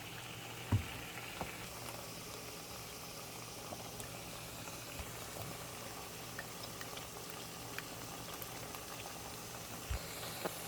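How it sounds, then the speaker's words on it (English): A pot boils on the stove for keto lasagna, a steady bubbling hiss with occasional faint clinks, moderately quiet and continuous with no talk. "All right, so this is boiling."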